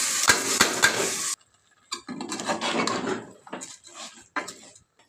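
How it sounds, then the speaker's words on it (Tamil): Rice and squeezed soya chunks are stirred in a pot for vegetable biryani, with a burst of clattering and sizzle, then a pause and a series of scraping, knocking stirs against the metal, close and uneven. "நம்ம அரிசியும் சேர்த்து கிளறிக்கலாம்."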